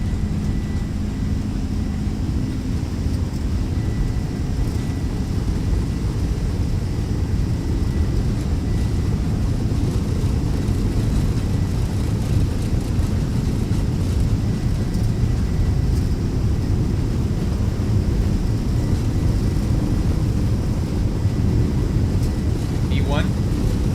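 Boeing 767-F jet engines at takeoff thrust in the X-Plane 12 flight simulator, a steady, loud low roar sustained throughout with a faint brief chirp near the end.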